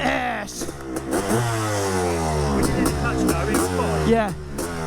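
A Honda RC500 factory two-stroke motorcycle engine revs hard and close by, its pitch climbing and falling through repeated throttle blips in a raspy, continuous snarl.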